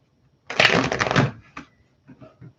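A deck of tarot cards is riffle-shuffled in one close burst of rapid papery flutter lasting under a second, followed by a few soft taps and shuffles of the cards.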